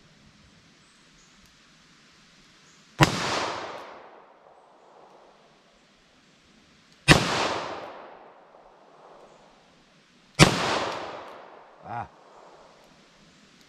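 Three sharp gunshots from .22 LR and .38 Special ammo crack at a steady pace, each trailing a short echoing decay, with a brief voice after the last shot.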